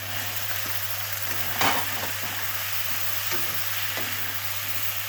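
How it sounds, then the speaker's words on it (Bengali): Mushrooms are stirred into a tomato masala frying in a pan, a steady close sizzle with one brief louder scrape of stirring and a low constant hum beneath. "মশরুম দিয়ে একটু নাড়াচাড়া করবো।"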